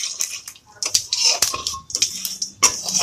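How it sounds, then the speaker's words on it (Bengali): Panch phoron spices stirred in hot oil in a kadai after frying rui fish, heard as scattered metallic scrapes and clinks of the spatula against the pan, with light crackles between them. "এবার কড়ায় দিয়ে দেবো, ওই তেলেতেই দিয়ে দেবো পাঁচ ফোড়ন"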